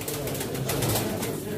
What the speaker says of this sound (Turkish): Kuşlar güzel beyler, müthiş kuşlar.